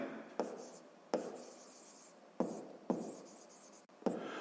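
A pen writes on paper in several short bursts of scratchy strokes, each starting sharply and trailing off, close and quiet with pauses between them.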